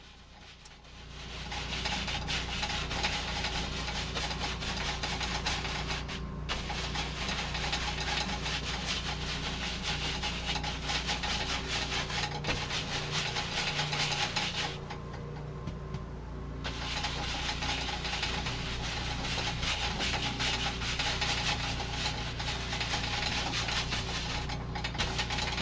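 A 2-inch brush loaded with Prussian Blue scrubs crisscross strokes across a wet canvas sky, a continuous close rubbing hiss with a few brief pauses between strokes.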